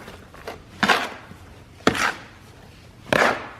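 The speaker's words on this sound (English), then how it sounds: "Just start mixing it all up." Hot lime mortar is chopped and mixed with a tool, giving three sharp, close thuds spaced about a second apart with quieter scraping between them.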